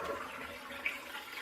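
A SodaStream Fountain Jet sparkling water maker carbonating water gives a steady, fairly quiet hiss and rush of gas into liquid, continuous throughout with a slight bubbling texture.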